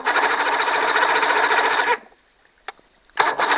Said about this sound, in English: I try to start this motor, makes these sound, but it wouldn't turn over.